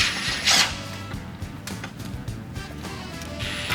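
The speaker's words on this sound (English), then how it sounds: "T45 bolt removal from the OE muffler that hangs the muffler to the rear foot peg" A hand ratchet loosens the rear T45 bolt holding the stock muffler of a Harley-Davidson Pan America to the passenger foot peg, giving a close series of short clicking and grinding bursts with no talk.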